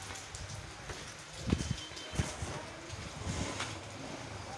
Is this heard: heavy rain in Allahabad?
yes